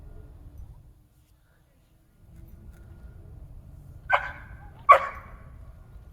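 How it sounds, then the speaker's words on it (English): A dog gives two short, sharp barks less than a second apart, fairly near, against a faint low background rumble in an otherwise quiet room. "right there you can hear him bark, vocalizing"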